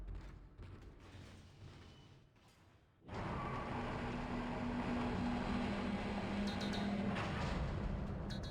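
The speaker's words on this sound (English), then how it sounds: "Tram arriving at flight deck station." A Dead Space tram pulls into a station with a sudden swell of loud, steady mechanical rumble and hum. Faint creaks and sparse clicks ride over the top and continue for several seconds.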